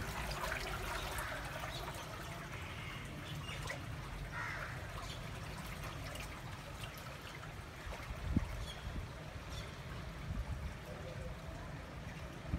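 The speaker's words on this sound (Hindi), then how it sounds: "उसके नीचे से सारा पानी जा रहा है" Water flows steadily beneath a stone at Gurdwara Panja Sahib in Hasan Abdal, Pakistan, making a continuous close rushing trickle that holds an even level throughout, with a brief louder splash near the end.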